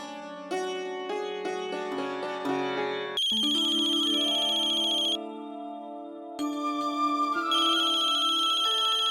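A phone ringtone plays a bright electronic melody with repeating phrases, loud and alone, briefly pausing before the tune resumes.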